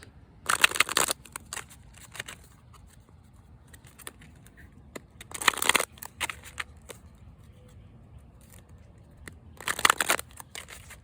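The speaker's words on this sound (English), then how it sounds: "It's one of my favorite Oracle cards decks. Let's shuffle it real quick." Three short bursts of a deck of oracle cards being riffled and shuffled, spaced several seconds apart, with faint handling noises in between and no talking.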